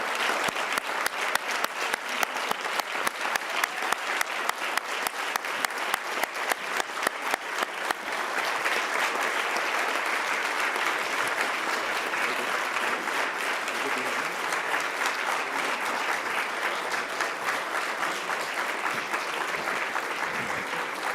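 An audience at the United Nations welcomes Gurudev Sri Ravi Shankar with loud, sustained applause, which starts as rhythmic clapping and swells into a dense, steady roar of hands from a large crowd.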